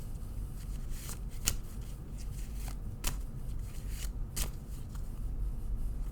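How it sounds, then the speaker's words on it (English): Oracle cards being shuffled by hand, soft continuous riffling with a few sharper snaps, close and quiet, no voices. "Let's shuffle and close out the reading with 3 cards"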